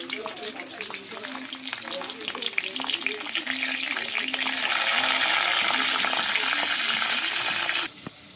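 Pointed gourd kofta fry in hot oil in a pan, a dense bubbling sizzle that swells louder midway and then cuts off abruptly near the end.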